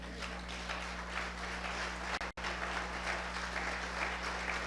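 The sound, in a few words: congregation applauding in church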